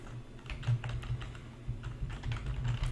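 A host name is typed on a computer keyboard: a quick, irregular run of close, soft key clicks and taps lasting a few seconds, with no voice.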